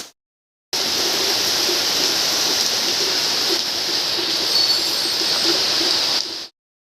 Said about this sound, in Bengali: আমি এখানে সম্পূর্ণটা কিন্তু বৃষ্টি পড়ছে আর আমি এখানে টুকটুক করে রান্না করছি